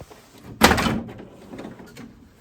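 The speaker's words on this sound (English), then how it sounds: "Every time you open the drawer on these printers, it sounds like you're breaking something." A printer's paper drawer is pulled open with a sudden harsh scraping clunk, loud and close, then trails into a softer grinding rattle that fades over about two seconds.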